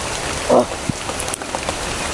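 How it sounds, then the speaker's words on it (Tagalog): Heavy rain pours down in a steady, dense hiss of drops striking surfaces, loud and close throughout, with a brief louder bump partway through. "Lakas ng ulan."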